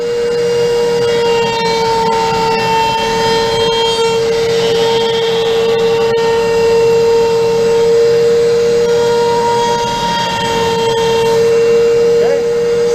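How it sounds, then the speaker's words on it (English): A router runs steadily, shaping and rounding the edges of a wooden push stick handle, its high whine holding at a constant pitch throughout without pause, loud and close. "So once I have routed my push stick handle"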